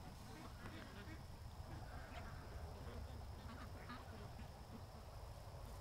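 Ducks quacking outdoors under a faint steady hiss, soft repeated calls scattered through a quiet, low-level background.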